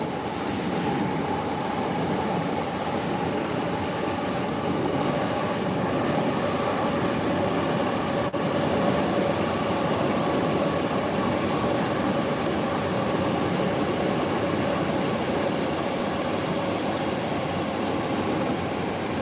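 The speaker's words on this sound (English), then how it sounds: "I got sucked in by the train that's there" A train rolls past on a Tokyo backstreet at midnight, a loud, steady rumble with faint clattering that fills the whole stretch without letup, and no voices over it.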